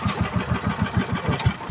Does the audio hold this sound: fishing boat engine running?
yes